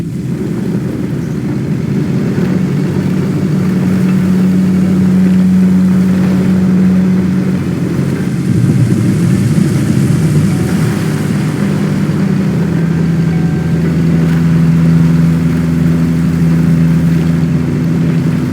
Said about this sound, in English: Keep the wheels steady and trust the snow chains on the tires.